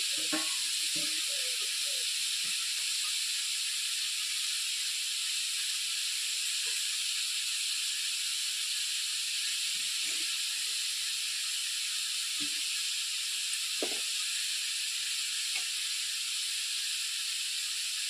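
Hot water pours off boiled chow mein noodles, a continuous rushing, steamy hiss held at one level throughout, with a few faint low clunks of the pot underneath.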